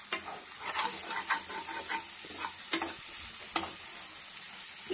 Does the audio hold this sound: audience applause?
no